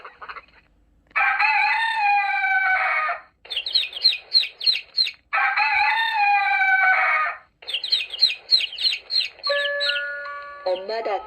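Chicken sounds from an animal sound book: long, loud crowing calls alternate with quick bursts of rapid chick peeping, ending in a short, toy-like tone.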